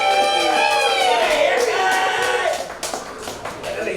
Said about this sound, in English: Everybody put your hands together for Calvin Sinclair.